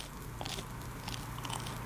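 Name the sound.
crunchy donuts being eaten in a video game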